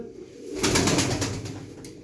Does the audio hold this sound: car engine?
no